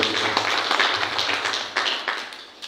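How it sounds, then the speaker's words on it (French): An audience at a general assembly of a women magistrates' association claps together in a steady, moderately loud round of applause, with a few sharper claps standing out and a low room hum beneath. "est-ce qu'on peut l'applaudir encore une dernière fois"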